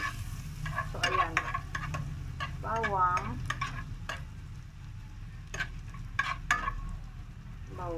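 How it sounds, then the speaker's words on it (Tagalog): Garlic sautés in a pot for a cabbage soup, a soft steady sizzle with occasional stirring scrapes and clicks, and short bursts of a voice heard now and then over the frying. "Lagay natin yung bawang natin."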